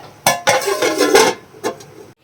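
A lid goes onto a clay pot of simmering vanjaram fish curry with a few close clattering knocks and a scraping rattle, then one last light tap before it settles, no voices.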